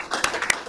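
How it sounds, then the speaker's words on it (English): Applause at a county board of commissioners meeting, a short burst of scattered clapping with a couple of sharper individual claps standing out. "Give Ellie a round of applause."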